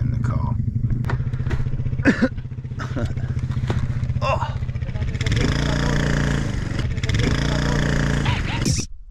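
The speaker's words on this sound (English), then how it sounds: "I've got quad bikes and motorbikes circling the car." Quad bikes and motorbikes circle a parked car on open moorland, their engines droning and revving steadily throughout, swelling louder as they pass close by, with a brief exclamation from someone inside the car.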